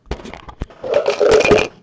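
A pair of dice rolled for a raffle draw, several quick clattering knocks and rattles that settle within about two seconds, close and fairly loud.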